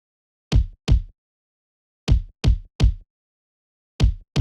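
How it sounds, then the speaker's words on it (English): Deep, punchy kick drum hits play alone in an irregular pattern, single and grouped thumps separated by silence, each short with a quick decay. "I have this additional kick sample"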